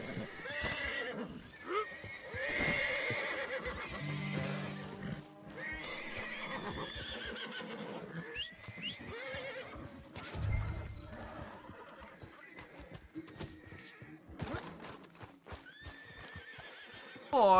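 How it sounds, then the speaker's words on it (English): A horse in the video game Red Dead Redemption whinnies and neighs repeatedly, with bursts of clip-clopping hooves and other game effects mixed in at moderate, uneven levels across the stretch. "Damn horse."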